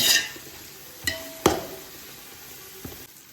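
Mint stirred through sizzling biryani masala in a pan, with a soft steady fry beneath a few distinct spoon knocks and scrapes, heard close and without voices.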